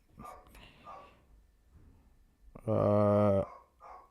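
A single loud dog bark rings out near the end from outside, following a few muffled voice-like sounds and quiet background noise.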